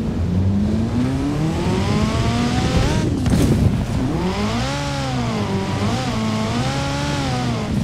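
Car engine in the Forza Horizon 4 racing game, driving across a pier, a loud sustained drone whose pitch rises and falls repeatedly as it revs and shifts, with a brief burst of noise midway.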